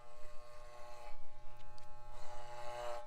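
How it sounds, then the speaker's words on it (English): Cheap electric hair clippers buzz steadily at close range while cutting hair, the tone surging and dipping in short pulses as the blades move through it. "So then I get my clippers."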